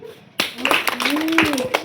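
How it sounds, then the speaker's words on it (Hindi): A boy claps his hands at a street magician's show, a quick run of sharp close claps under a voice talking over them. "ओ लड़के, ताली बजाओ"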